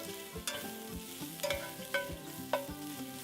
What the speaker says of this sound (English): Add the steak to the pan and brown on all sides.